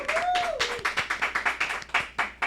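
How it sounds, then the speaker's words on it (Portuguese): Podcast audience and hosts give a round of applause for the guest, a brisk run of close, sharp hand claps with a short whistle-like tone at the start. "vamos dar uma salva de palmas para o nosso convidado de hoje"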